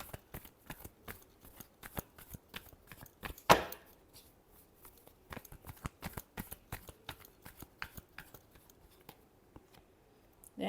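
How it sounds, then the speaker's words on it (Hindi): Tarot cards are shuffled close up in a quiet room, a rapid irregular series of crisp flicks and riffles with one louder slap partway through, with no talking over them. "Last shuffle."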